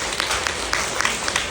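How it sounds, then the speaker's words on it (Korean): An audience applauds at a Korean talk concert after an actor is introduced on stage. The clapping is scattered and moderately loud, a brief burst of hands with no speech over it. "박수 보내주세요."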